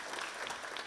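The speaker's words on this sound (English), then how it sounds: "you deserve the applause" Crowd applause at a graduation ceremony honoring online education graduates, a steady wash of many hands clapping heard from a distance and fairly faint, with no voices over it.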